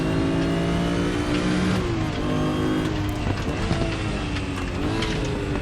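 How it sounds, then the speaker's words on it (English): A Porsche race car engine in Raceroom revs hard, and after an upshift the clutch slips. The loud, continuous engine note rises and drops through gear changes, with other cars' engines layered in nearby. "after I changed up, it actually sounded like it's got a clutch slip"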